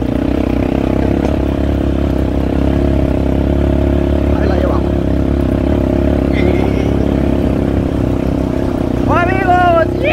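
A motorcycle engine drones loud and steady throughout while riding, with wind rush, and voices speak faintly over it.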